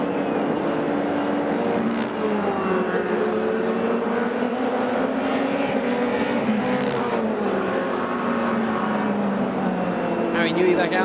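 Formula race cars in free practice on a circuit scream past in a steady, continuous engine drone that swells and shifts in pitch, with commentary running over the top.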